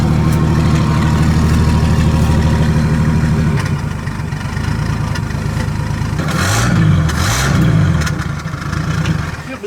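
A Chevy Nova V8 idles just after a cold start, a loud, lumpy rumble with a rhythmic lope; the revs sag and swell briefly midway before settling back, with no talking over it.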